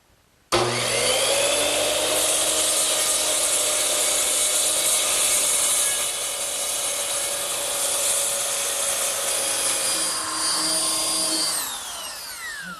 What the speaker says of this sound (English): now I'm just going to take a circular saw and trim the angles